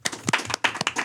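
A few sharp, scattered hand claps from a small audience greeting a teacher at a live event, brief and close, with short gaps between bursts.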